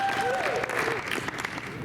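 A church congregation claps and cheers, a dense wash of applause with a voice or two rising above it, steady and fairly close.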